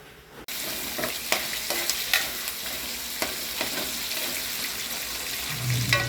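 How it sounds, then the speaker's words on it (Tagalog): Garlic and onion sautéing in pork fat for chopsuey, a steady sizzle after a sudden start, with scattered scrapes and clinks of stirring and no voices. "igisa ko ng bawang sibuyas"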